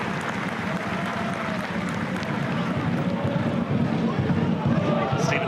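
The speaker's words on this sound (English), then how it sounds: "There was a minute's applause as a mark of respect for Stephen Maher's father Eugene" A football crowd at United Park holds a minute's applause, giving a steady, dense wash of clapping from the stands, with a commentator talking over it.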